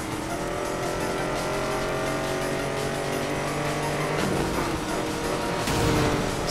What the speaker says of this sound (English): this car sounds so good in this game